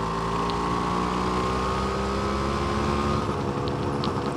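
A Yamaha DT two-stroke motorcycle engine runs steadily at a constant idle-to-mid rev, a loud buzzing drone with harmonic whine, close by and continuous with no speech.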